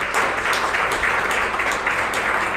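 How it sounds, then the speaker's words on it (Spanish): A church congregation bursts into sustained applause during a Pentecostal worship service, a dense, steady wash of many hands clapping throughout with no voices standing out. "Démosle un aplauso al Señor."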